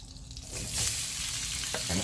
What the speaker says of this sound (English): Now we're going to throw in our shrimp